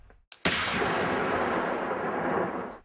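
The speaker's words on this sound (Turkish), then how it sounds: "roket atarlarla atış talimi yapıyorlar" A rocket launcher fires during militant training at a camp, a single sudden loud blast followed by a long roaring rush that slowly fades.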